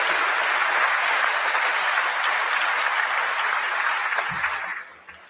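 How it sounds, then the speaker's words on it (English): Sustained, dense applause from a large audience at a league event, loud and steady for several seconds before fading out at the end. "Give yourself a round of applause."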